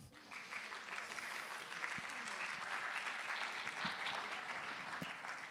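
Audience applause for a speaker at a digital health and sustainability event, a soft, even clapping from a room of listeners that swells briefly and carries on for several seconds.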